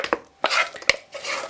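Cooked rice is scooped out of a pot while stuffed cabbage rolls are being made, giving a few quick, close scraping and scooping scrapes of a utensil against the pot.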